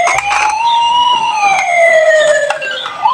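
A toy fire truck siren wails continuously and loudly up close, its pitch sweeping slowly with a few clicks of handling in the background.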